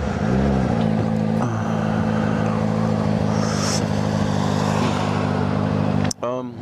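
A Yamaha FZ6R sport motorcycle rides steadily at a constant engine note, loud and close with rumbling wind, the tone dipping briefly near the end.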